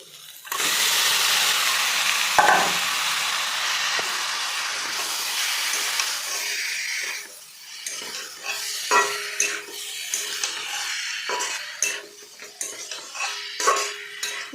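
Lotte fish added to a spicy ginger-garlic paste fried in plenty of oil: a strong hissing sizzle at first, then softer bubbling broken by repeated clinks and scrapes of a spoon against the pan.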